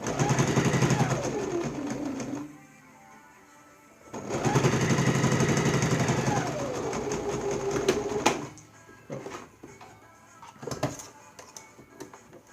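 Sewing machine stitching in two loud, close bursts of whirring, each a few seconds long and separated by a pause, followed by quieter handling clicks and knocks.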